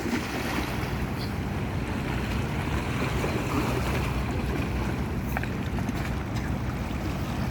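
Sea waves wash against a wrecked boat left to break apart at Tegalsari harbour in Tegal, Central Java, a steady, loud, close surge of water and wind noise that runs without pause.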